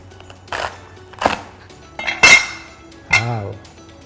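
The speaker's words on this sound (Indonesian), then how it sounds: "Oke, kita potong dulu selerinya." A knife cuts through crunchy celery stalks on a board, four separate crisp chops with clinks of the blade, close and moderately loud, no talking.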